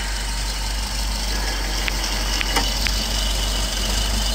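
A 1967 Citroen DS 21 Pallas with its 2.1-litre four-cylinder engine idles steadily up close, a constant low rumble with a faint hum, no voices over it.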